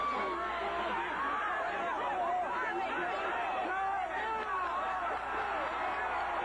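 A convention hall crowd at the 1988 Republican Convention reacting as AIDS protesters are removed, a steady dense hubbub of many overlapping voices with shouts and chatter throughout.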